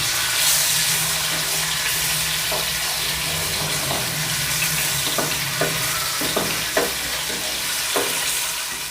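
Ginger garlic paste fries in a pan for dhaba-style mash dal: a loud, continuous sizzle with soft scraping stirs and a few light knocks toward the end.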